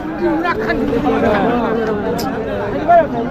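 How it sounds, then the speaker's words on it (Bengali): Dense crowd chatter fills a cattle market, with many overlapping voices talking nearby and a brief higher call rising above the babble near the end. "মাত্র হাটে ঢুকলাম"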